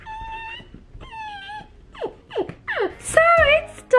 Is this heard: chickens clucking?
no